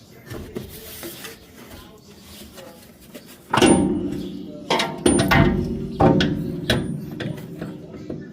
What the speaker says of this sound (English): So now we'll push it up through the hole in the top, and bolt that on